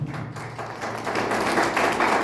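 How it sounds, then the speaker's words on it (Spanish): Short burst of clapping from a gathered group, a dense patter of hands that grows slightly louder over a couple of seconds. "Dale un fuerte aplauso al que vemos"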